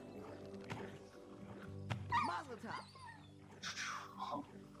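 A wolf in a sheep-herding video game whimpers in thin, high whines and yips, moderately close amid a steady bed of game ambience and other soft creature noises.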